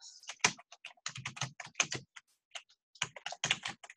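A web address being typed on a computer keyboard, with quick close-up key clicks in irregular bursts and a few short pauses, heard alone without talking.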